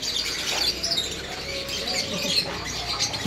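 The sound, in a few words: many birds chirping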